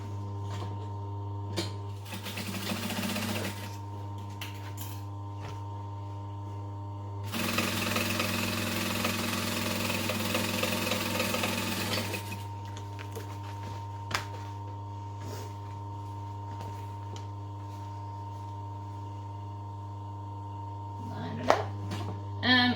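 A sewing machine stitches a vinyl Everyday Tote bag in two bursts of fast mechanical whirring over a steady low hum, moderately close and quiet.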